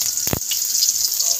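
Oil hissing steadily in a wok-style pan while being heated for sautéing, a continuous close, bright sizzle with one short clattering knock near the start.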